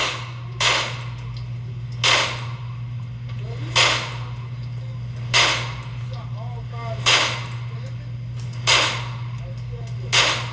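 Six sharp, evenly spaced gunshots from a 9mm Canik SFX Rival pistol with a light trigger, about one and a half seconds apart, loud and close over a steady low hum.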